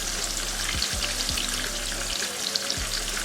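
Fish frying in a pot of very hot oil as a stew is being prepared, giving a steady close sizzle that runs throughout with a few soft pops and no talking.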